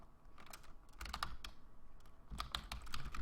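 Keys clatter on a computer keyboard in quick, uneven clusters of close clicks with brief pauses between bursts, over a quiet room hum.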